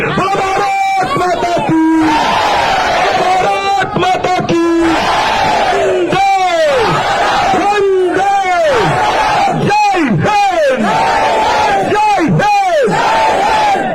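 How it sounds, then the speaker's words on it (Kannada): A large crowd at a speech shouts a rhythmic 'Bharat Mata ki jai' chant in loud unison bursts, repeated over and over with brief pauses between each cheer. "ಒಂದ್ಸಲ ಉಚ್ಚ ಕಂಠದಲ್ಲಿ ಭಾರತ್ ಮಾತೆಗೊಂದು ಜೈಕಾರ ಕೊಡಿ"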